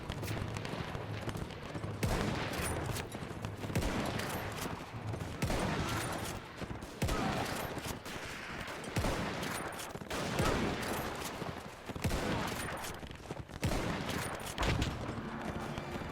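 Musket volley fire in a Napoleonic-era battle video game, rolling in repeated crackling bursts every couple of seconds, dense overlapping shots at a moderate distance, sustained throughout.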